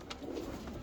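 Pigeons coo softly in a low, continuous murmur of overlapping calls, a close flock of birds kept for breeding, with no voices over them.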